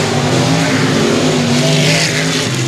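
Race cars roaring around the oval at Sabine Speedway, a continuous loud engine drone with layered harmonic whines from several cars running close together.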